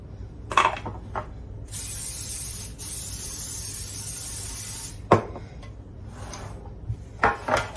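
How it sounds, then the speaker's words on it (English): A steady hiss of cooking spray onto a pan for a few seconds, with clinks of cookware and small kitchen knocks before and after. "I'll spray the other pan."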